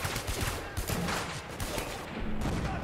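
Grenade launcher fire in Spec Ops: The Line, a burst of heavy thumping shots and explosions over a dense wash of battle gunfire, loud and close.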